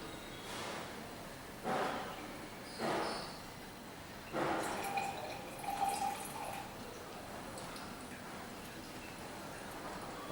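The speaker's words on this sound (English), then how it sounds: "I have added some more amount of distilled water." Distilled water is added to a Kjeldahl flask during nitrogen analysis, heard as several short, faint splashing and dripping bursts spread across a quiet background with no talking.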